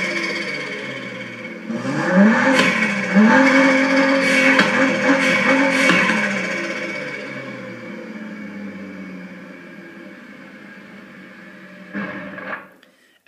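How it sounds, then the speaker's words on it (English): A Sturmkind DR!FT racer toy car plays a synthesized engine sound with turbo spool and blow-off valve: a rising revving whine with stepped pitch climbs, fades into a lingering hum, then a short sharp burst near the end. "Do you hear the difference in how the turbo spools up and how, like, the wastegate and the blow valve or the blow valve works together with the engine"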